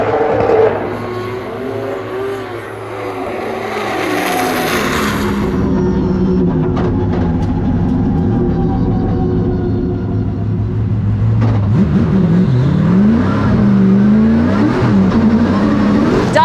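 A drift car circles cones on a track in a Formula DRIFT skills battle, its engine loud and near, revving up and down in long swells with shifting pitch and tire noise, with no talk.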